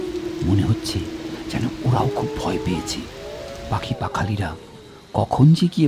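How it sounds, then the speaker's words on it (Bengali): Steady drizzling rain falling since evening patters softly in the background beneath a narrating voice that talks throughout. "সেদিন সন্ধে থেকে একটানা ঝিরঝিরে বৃষ্টি হচ্ছে।"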